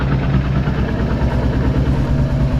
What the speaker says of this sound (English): Very noisy lifters and rockers.